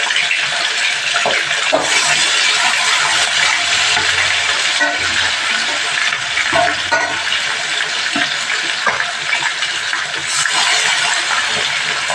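Fish sizzling steadily in hot oil in a pan, a loud continuous crackling hiss with scattered pops and faint clinks of utensils throughout, no talking.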